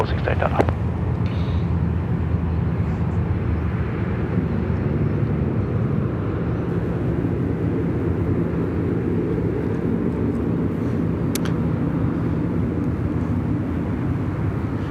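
A jet aircraft on runway 34 Left at Sydney Airport makes a steady, loud broadband roar that fills the whole stretch, with faint background chatter beneath it.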